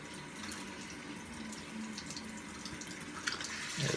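Water running from a tap into a sink during a wet shave, a steady close splashing hiss with small drips and a slight swell at the end.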